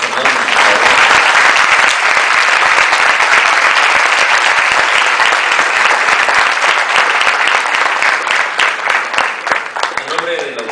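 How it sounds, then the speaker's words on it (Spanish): A lecture audience breaks into loud, sustained applause, dense and close-sounding, holding steady for around ten seconds before tapering slightly at the end. "Un aplauso enorme, por favor."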